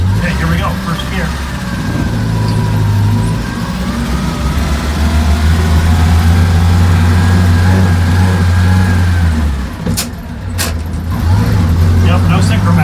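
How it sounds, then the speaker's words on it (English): A 1948 Crosley CoBra wagon pulls away in first gear, its loud, low engine droning as it strains and the body rattles and bangs, a brief dip then the engine picking up again; a person talks over it. "this is an extremely loud car to drive. Everything rattles and bangs."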